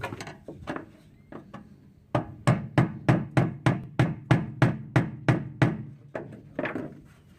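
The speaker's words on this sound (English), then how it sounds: "we're just going to use a flathead, hammer it on and lock it" A series of sharp metallic taps, then a steady run of about a dozen evenly spaced hammer blows on a flathead screwdriver, locking a fuel pump connector clip on a 2002 Chevrolet 1500, close and loud.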